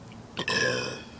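One loud, drawn-out human burp erupts close to the mic after a short quiet lead-in, resonant and tapering off over about half a second.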